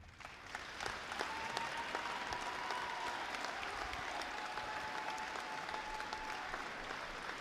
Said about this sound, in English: we owe them a round of applause because this state championship is phenomenal